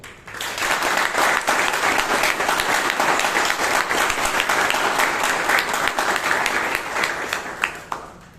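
A room of attendees at a Bangalore Toastmasters club meeting breaks into sustained, even applause that holds steady for several seconds before tapering off with a few last claps.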